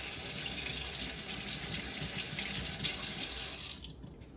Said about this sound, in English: you can rinse it under cold water.